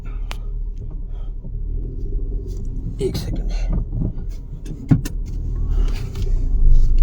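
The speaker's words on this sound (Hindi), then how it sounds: "अब लो जी, एक गाड़ी आ गई" A car arriving and passing along a street in a run-down residential sector of Palwal, a steady low engine rumble building over several seconds with scattered clicks and knocks, while someone speaks briefly nearby.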